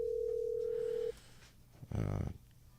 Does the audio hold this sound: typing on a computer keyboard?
no